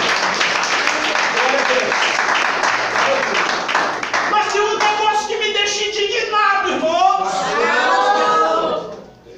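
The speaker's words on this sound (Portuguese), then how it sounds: "Você pode aplaudir o Senhor?" Church congregation claps in praise during a sermon, a broad roll of applause mixed with voices calling out and singing, lively and sustained before fading away at the close.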